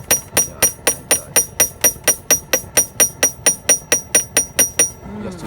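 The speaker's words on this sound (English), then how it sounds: "Here's where you do the hammering like this to put some, some flowers." A Kenyan artisan hammers brass jewelry by hand, striking metal in a steady, evenly spaced series of about twenty sharp, ringing blows close to the microphone, then stopping.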